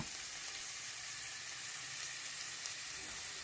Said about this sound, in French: maintenant nous allons frire les pommes de terre.